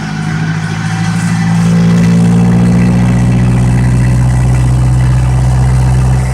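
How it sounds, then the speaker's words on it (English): A restored vintage Fiat 501 engine runs loud and close, its exhaust chuffing steadily as the revs rise and hold at a raised, even pace. "no doubt the exhaust is rather nice. Only a few chuffs now compared to what was happening before."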